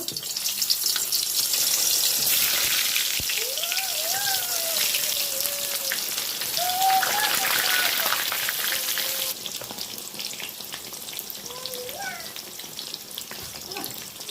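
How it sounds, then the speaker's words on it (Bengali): Brinjal slices fry in hot oil for a poppy-seed curry, a loud, steady crackling sizzle that runs throughout, with faint whistling tones drifting over it and a slight drop in intensity partway through. "এবার আমি বেগুনগুলো দিয়ে দেবো বেগুনগুলো ভেজে নেব"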